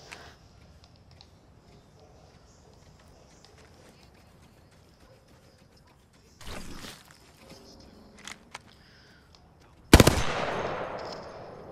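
Gunfire in the video game Apex Legends: a quiet stretch, then a short burst of shots, a few scattered cracks, and a loud sustained volley near the end that trails off.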